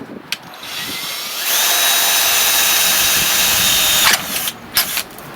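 A power drill whines steadily for about three seconds as it bores out metal rivets on a vintage Harley-Davidson, with brief clicks and knocks before and after.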